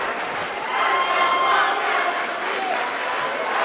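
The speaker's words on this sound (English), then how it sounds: "And the crowd's getting involved." A packed high school gym crowd at a state playoff basketball game in Royse City roars and cheers steadily, a loud sustained wash of voices with shouts rising out of it.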